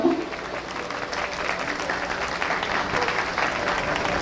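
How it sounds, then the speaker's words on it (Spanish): Audience applause fills a lecture hall during a talk on the origins and humanism of ancient American cultures: steady, dense clapping from many hands, loud and continuous throughout with no pauses. "Tenemos aquí un aplauso, por favor"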